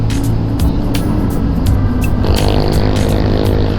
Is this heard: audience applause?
no